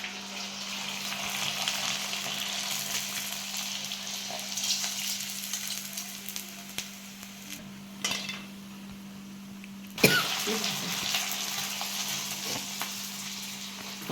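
Rice papad frying in hot oil in a home kitchen, a steady close sizzle with a low constant hum underneath and an occasional clink of a utensil partway through.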